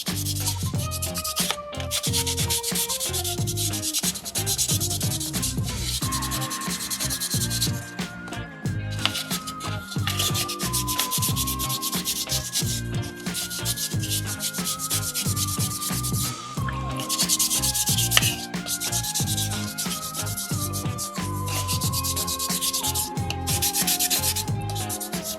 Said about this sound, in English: Fold that sandpaper up, tuck it into those hard to reach areas.